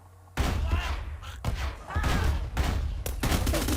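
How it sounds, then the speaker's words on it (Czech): Rocket launcher fire in the pixel shooter game Pixel Warfare comes as a series of loud, close thumping blasts in quick succession, each with a short burst of noise, over about four seconds. "Tato raketa normálně střílí takhle."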